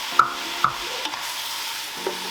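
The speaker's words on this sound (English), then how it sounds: "start stabbing the mince down, because you want to break that up into like tiny wee bits" Mince browning in a frying pan, jabbed and broken into small bits with a utensil: a few soft knocks and scrapes over a low, steady sizzle, close and fairly quiet.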